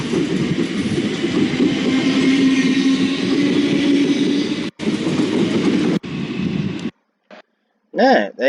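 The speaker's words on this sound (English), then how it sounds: "As the train starts to move." A loud, steady rumble of a train rolling on the tracks fills the scene, with brief cuts to near silence and a short burst of noise at the end.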